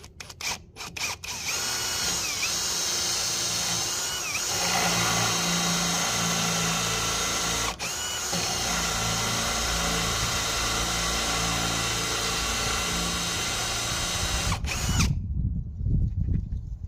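A power drill bores through metal with a bit while ramps are built for a Farmall hauler deckover. It gives a loud, steady whine for about fifteen seconds, then cuts off into quieter background noise.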